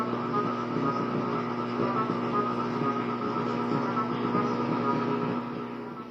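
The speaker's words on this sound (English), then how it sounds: "We turned on the gain on the distortion" A homemade fuzz distortion pedal with its gain turned up, giving a steady, buzzing harmonic drone laced with hum that holds at an even level throughout, with no talking.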